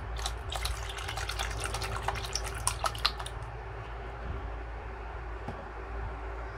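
Homesoy soy milk, the low-sugar Malaysian kind, pours from a one-liter carton into a container, a faint trickling splash with scattered drips over a steady low background hum.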